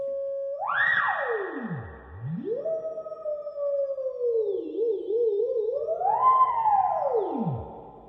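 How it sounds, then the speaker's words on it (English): Swooping, warbling tones slide up and down through the spring reverb of a 1981 Mesa Boogie Mark IIB guitar amplifier, with long metallic reverb tails smearing each sweep. "You can hear the reverb going"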